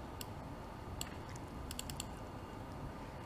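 Computer mouse clicks on a PC, several faint, crisp ticks including quick close pairs, scattered over a steady low background hiss.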